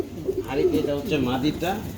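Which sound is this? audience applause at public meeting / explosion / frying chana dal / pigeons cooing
pigeons cooing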